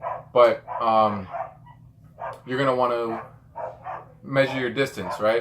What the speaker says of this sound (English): if you hear the dogs in the background, I apologize.